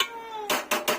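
Metal lid set onto a cooking pot of curry in a home kitchen, three quick clanking contacts close by after a faint ringing tone.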